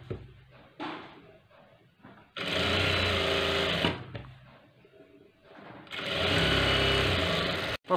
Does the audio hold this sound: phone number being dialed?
no